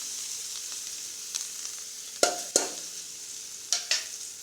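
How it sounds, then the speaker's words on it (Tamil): Chopped onions fry in oil with mustard seeds under a soft, constant sizzle, and a few sharp spoon strokes and scrapes stand out, close by and without speech. "இப்போ அரிஞ்சு வச்சுருக்கிற வெங்காயத்தை போட்டுக்கலாம்"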